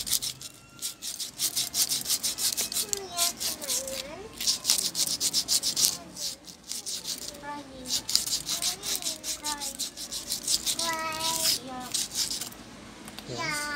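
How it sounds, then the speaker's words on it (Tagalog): Fine iron-grade sandpaper rubs steadily against a metal bushing from a standard electric fan motor, a dense scratchy rasping close by with uneven strokes, while a voice chatters intermittently in the background. "So, lihain ko lang ito."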